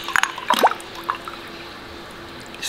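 Lemon sharbat drink made with lemon slices is poured into a glass: a few brief close splashes and drips early on, then a quiet tail.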